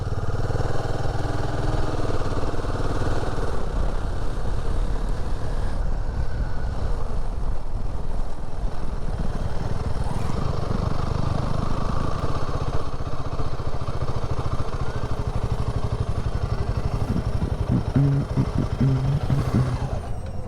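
A Royal Enfield Himalayan 450 motorcycle riding on a road in Uttarakhand, steady engine drone with constant wind buffeting, loud and close throughout.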